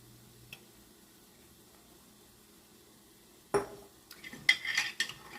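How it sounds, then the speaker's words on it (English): Marinara sauce being stirred in a pot for ravioli lasagna: near silence at first, then a sudden clatter of a utensil against cookware, followed by a few seconds of scraping, clinking stirring noise. "I'm going to give that a good stir"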